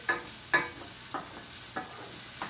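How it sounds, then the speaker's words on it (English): Onion softening in a pan for a sausage and lentil stew, a low sizzle under several distinct scraping stirs spaced about half a second apart, close and moderately loud. "We don't want to brown the onion, we just want to soften it up a little bit."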